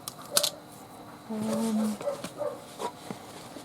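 A dog barks a few times in the background, faint and intermittent, with a voice talking nearby.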